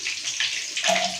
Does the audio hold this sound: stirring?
no